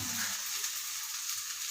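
Fried okra stirred into tomato gravy in oil gives an even, close sizzle with a faint low scrape near the start, brief and without voices.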